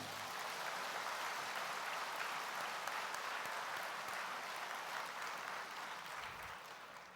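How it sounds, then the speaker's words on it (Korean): A church congregation applauds the pastor after a Korean sermon, producing steady, dense clapping from a large indoor crowd that stays even and moderately loud before easing slightly at the end. "귀한 말씀 전해주신 목사님께 박수 한번 올려드리겠습니다"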